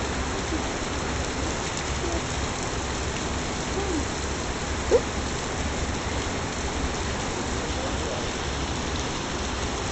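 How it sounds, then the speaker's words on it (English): Pouring rain falls on Royal Street in the French Quarter of New Orleans, a steady, even hiss of heavy rain with one brief sharper drip or knock partway through. "Pouring rain up Royal Street"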